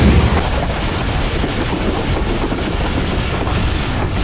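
A passenger train rolls along the rails across Pakistan, a steady loud rumble of wheels and carriage noise with faint clickety-clack filling the whole stretch, no voices.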